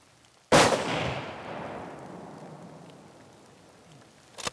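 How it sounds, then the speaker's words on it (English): A single loud rifle shot during a mouflon hunt in Austria cracks out and rolls away in a long echoing decay across the landscape, followed by a faint thump at the end, with no talk. "Good shooting. You got him twice."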